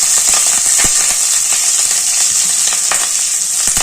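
Onions sizzle steadily as they fry in a pan to browning, with a continuous close hiss broken by occasional scraping and clicking stirs.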